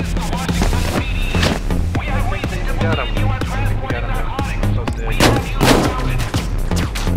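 Gunfire in the heist video game Payday 2, rapid shots and bursts under near-continuous shouted player chatter, loud and busy throughout.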